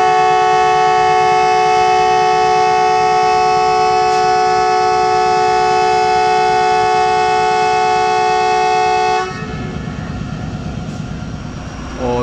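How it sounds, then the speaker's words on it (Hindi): A train horn blares before a passenger train departs from Lahore toward Narowal: one loud, sustained multi-tone blast holds steady for about nine seconds, then cuts off, leaving rumbling station noise behind. "और सेकंड हॉर्न के बाद सफ़र का आगाज़ किया।"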